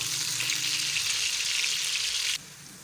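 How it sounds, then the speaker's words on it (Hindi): Onions sautéing lightly in a pan for a potato and pea pulao, giving a close, steady sizzle and crackle that cuts off abruptly before the end. "प्याज को ज़्यादा डार्क नहीं करना, बस लाइट सा सोते करना है"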